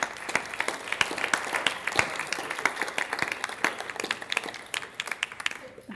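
An audience at a school district LCAP meeting applauds students with a dense, steady round of clapping that thins out over the last second.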